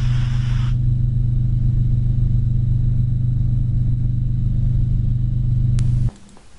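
Helicopter engine and rotor during a hover taxi before a practice engine failure, a steady loud droning hum with strong low tones that holds throughout and then drops off abruptly near the end.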